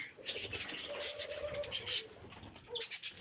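Pigeons coo softly in low repeated calls, with brief chirps and light fluttering close by; no one speaks.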